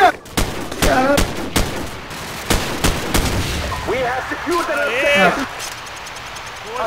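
Gunfire in Call of Duty Frontlines, a string of loud, sharp separate shots in the first few seconds, then excited shouting voices with scattered game sounds beneath.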